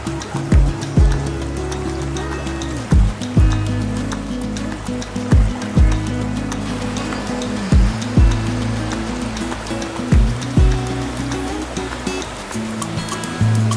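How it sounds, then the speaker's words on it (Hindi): A small waterfall in a wild village setting rushes steadily and loudly, a constant close wash of falling water with occasional thuds and knocks over it, no talking. "ये छोटा सा बेबी वाटरफॉल"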